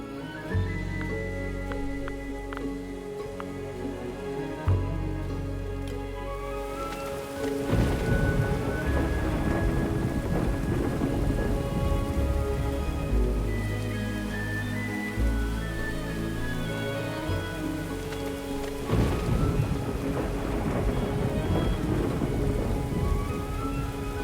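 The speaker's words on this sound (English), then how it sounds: "The gods choose to bless us with summer rain and send a thunderstorm to demonstrate their power." Summer rain pours steadily through a thunderstorm in the medieval game Going Medieval, with rolling thunder swelling twice over music and constant rainfall.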